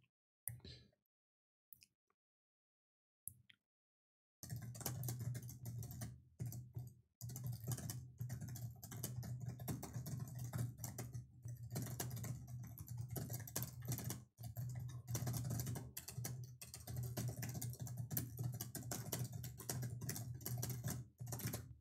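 Fast typing on a new computer keyboard: after a few sparse keystrokes and a gap, dense rapid clacking runs steadily for the rest of the stretch, close and clear, with no talking.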